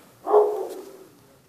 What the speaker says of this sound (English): Don't mind that, that's just my dog.